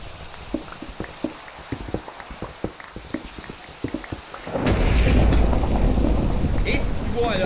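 Minecraft thunderstorm sets in: sparse ticking clicks give way to a loud, steady wash of heavy rain with a low rumble of thunder underneath, filling the second half.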